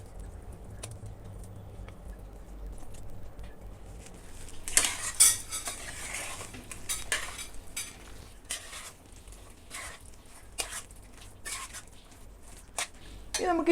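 Chicken going into a hot pan for a cashew nut sauce dish with chicken and mushroom, with metal spoon scrapes and clinks against cookware and a faint sizzle underneath, the clatter growing busier after the first few seconds.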